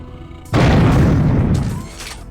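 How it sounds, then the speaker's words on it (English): A rocket explosion in the first-person shooter Unreal: Return to Na Pali erupts as one loud, close boom that rumbles and fades over about a second and a half. "That sure is a lot of rockets."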